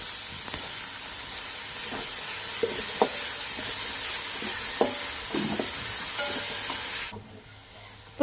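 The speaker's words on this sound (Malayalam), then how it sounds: "ഇനി സവാളയും ഉള്ളിയൊക്കെ നന്നായിട്ടൊന്ന് വഴറ്റിയെടുക്കാം കുറച്ച് ഉപ്പിട്ട് കൊടുക്കാം" Onions sautéing with salt in a pan for a rabbit roast: continuous close frying hiss with intermittent spoon scrapes and taps, the sizzle cutting off abruptly near the end.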